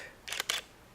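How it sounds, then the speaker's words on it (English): Two crisp camera shutter clicks, a single-lens reflex camera set to a fast shutter speed, heard close and alone, about a quarter second apart, each a sharp bright snap against a quiet background. "put it close so you can hear the shutter speed difference"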